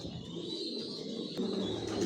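Imported Johnson line racer pigeons give faint, low cooing murmurs against a quiet steady background, with no voices.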